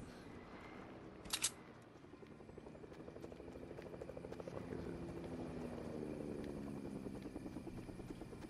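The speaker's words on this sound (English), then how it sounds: "Heli over us." A helicopter passes overhead, its rotor rumble rising and holding steady through the whole stretch, with a brief sharp click or camera shutter early on.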